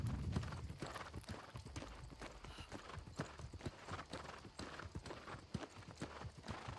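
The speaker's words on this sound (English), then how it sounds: "I love how the horse speeds up when you're on the road." Horse hooves clip-clopping on a road in the video game New World, a steady fast gallop rhythm heard close over a busy background, with faint talk.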